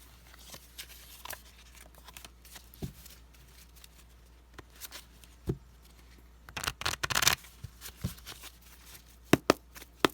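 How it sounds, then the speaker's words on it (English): Tarot cards being shuffled by hand, heard as scattered soft riffles and taps that build into a denser burst of card flutter near the end, close and fairly quiet with no talking. "Let me shuffle your message cards here quickly."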